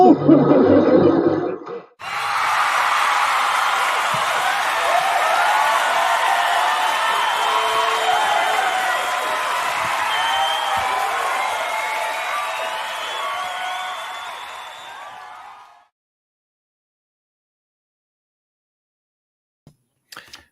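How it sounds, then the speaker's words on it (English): A live studio audience breaks into loud, sustained applause mixed with cheering and whoops, holding steady for about thirteen seconds before cutting to near silence, with a brief voice heard just before it starts. "Thank you for the applause."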